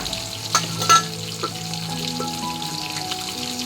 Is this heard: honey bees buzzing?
no